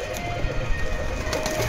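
Punjabi pigeons in a Delhi loft coo softly amid a constant background hum, the low throaty calls blending into the steady noise over under two seconds.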